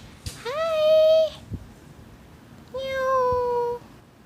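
A cat meows twice, two long drawn-out calls close by with a short pause between them, heard in a cat café in Japan.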